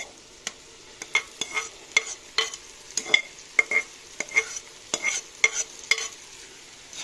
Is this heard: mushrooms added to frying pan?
yes